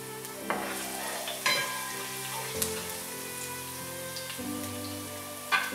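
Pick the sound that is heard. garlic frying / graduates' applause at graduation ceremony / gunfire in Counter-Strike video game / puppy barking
garlic frying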